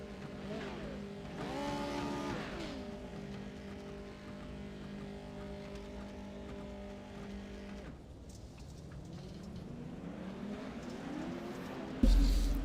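Motocross bikes in an arena heat race at Wild Horse Pass, engines revving and rising and falling in pitch as riders accelerate, with a steady droning pack in the background and a louder burst near the end.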